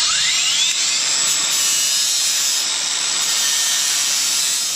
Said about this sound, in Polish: tyle sobie tutaj dam radę jakoś delikatnie objechać szlifierką